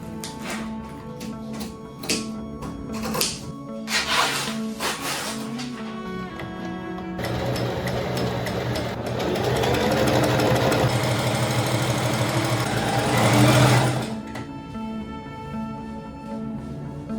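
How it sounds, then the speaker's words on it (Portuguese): An overlock serger stitches the edges of a skirt and its pockets for a dress, running in bursts of whirring mechanical stitching with brief pauses, then a longer steady run, close and fairly loud with no talk. "overloco toda a saia e bolso que não serão forrados"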